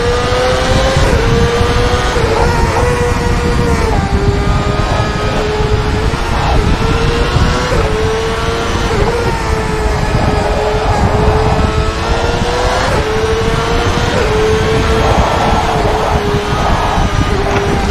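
A CART race car engine in the rFactor 2 sim at Lime Rock drones loudly and continuously at high revs, with pitch dipping and rising through corners and gear changes, accompanied by wind rush.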